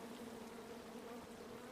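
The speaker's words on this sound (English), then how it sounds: "Come at me, bees!" Bees buzzing around a beehive in the video game King's Quest, a faint, continuous insect drone with a steady hum and no talk over it.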